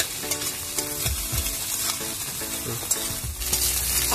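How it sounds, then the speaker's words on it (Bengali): Egg frying and being scrambled in a pan of oil, a continuous sizzle under repeated scraping and stirring strokes from a utensil, close and steady with no talk. "এইভাবে ডিমটাকে ভেজে নিতে হবে ঝুড়ি করে"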